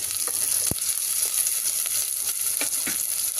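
Onion and green chilli frying in oil give a steady, close sizzle, with a few light clicks from stirring and one sharp tap.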